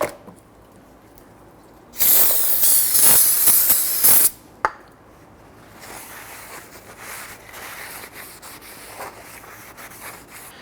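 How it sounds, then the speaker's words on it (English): Solvent sprayed onto a brake rotor from a Honda Ridgeline front brake job: one steady, loud aerosol hiss lasting about two seconds, then a short sharp burst, followed by quieter wiping and rubbing. "use some spray solvent and clean off any of the shipping oils that may be on the rotor. So go ahead and spray this down"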